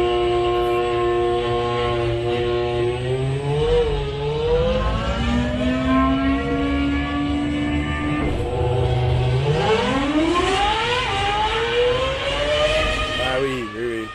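Formula 1 car engine in a racing simulator on the Magny-Cours circuit, a loud, steady high-pitched whine that rises and falls through repeated gear shifts, with a voice speaking over it.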